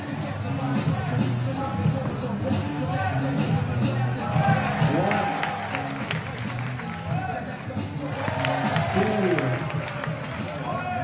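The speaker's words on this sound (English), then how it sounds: "On peut l'applaudir bien fort," A crowd at a 3x3 basketball event applauds a player, clapping and cheering mixed with hubbub and an announcer's voice over the arena noise.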